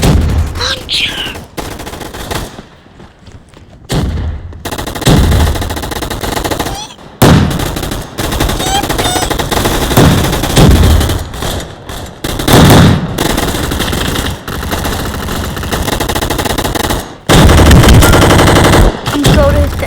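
Sustained bursts of M60 machine gun fire in a video game arena gunfight, loud, close and rapid, broken by brief pauses and recurring through the whole stretch with scattered other gunfire.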